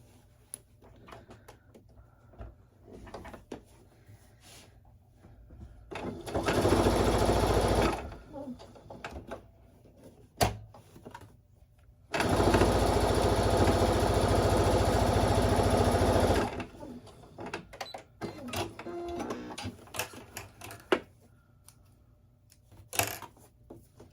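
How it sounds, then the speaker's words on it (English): A sewing machine stitches down quilt binding in two long, loud bursts of steady whirring, separated by quiet handling noises, clicks and brief talk between runs. "So I'm going to go ahead and sew that down, the rest of it down."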